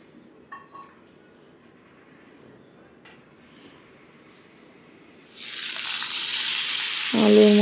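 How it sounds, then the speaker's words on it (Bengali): Potatoes with salt and turmeric begin frying in hot oil for a katla fish curry: a quiet stretch gives way to a sudden, steady, loud sizzle in the last few seconds. "এখানে মাছের জন্য আলু ভাজা বসিয়ে দেওয়া হলো"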